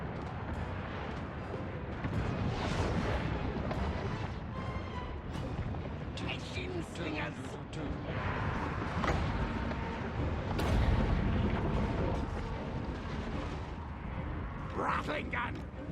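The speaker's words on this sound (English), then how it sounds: "Rattling gun." Rattling gun fire in a Total War: Warhammer battle with Clan Eshin skaven, a dense continuous clatter of shots and booms under almost constant talking.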